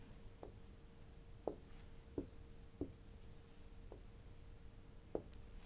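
A pen or marker writes a step function equation by hand, giving soft, scratchy strokes with sharp taps at irregular intervals, close and quiet, with no talk.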